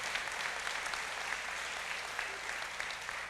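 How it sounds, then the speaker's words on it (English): A steady wash of audience applause at a State of the Nation 2018 event, continuous, even clapping from a crowd with no talk on top. "If y'all would give her a big round of applause."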